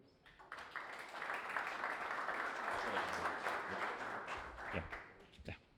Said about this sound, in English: we can give a round of applause in welcoming him